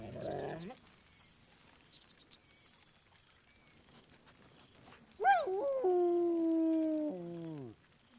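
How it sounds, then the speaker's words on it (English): A dog in Baldur's Gate 3 gives a short bark, then a long, drawn-out whine that rises and falls for a couple of seconds, clear and close against a quiet background. "Scratch barks merrily in something like agreement. He whines."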